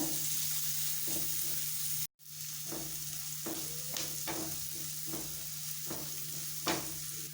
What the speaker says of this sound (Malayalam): ഉള്ളി ഒന്ന് ബ്രൗൺ കളറാകുന്നവരെ ഇത് നന്നായിട്ടൊന്ന് ഇളക്കി കൊടുക്കാം.